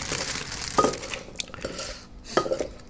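Papaya salad being stirred and mixed in a bowl, giving a few scattered clinks and scrapes of a utensil against the dish with quiet gaps between them and no talking.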